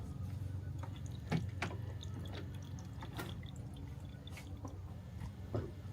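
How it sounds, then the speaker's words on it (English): Quiet irregular drips and gurgles of water trickling through a machine over a soft low hum, with no talking. "it's just sending the water through the unit right now"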